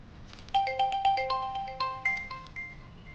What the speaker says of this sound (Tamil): ஃபோன் போட்டு பேசுவோம்.